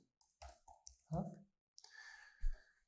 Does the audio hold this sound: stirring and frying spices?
no